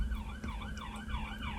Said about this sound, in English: And oh, you can hear an ambulance.